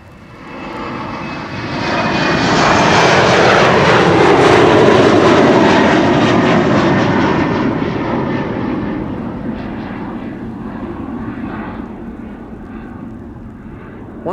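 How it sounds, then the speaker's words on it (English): KLM Embraer 190 jet departing Amsterdam Schiphol from the Polderbaan runway in rain showers, heading for Hanover: a loud, sustained engine roar that builds, peaks mid-way and slowly fades as the aircraft climbs away, with no talk. "This is KLM flight 1789 to Hanover, Embraer 190."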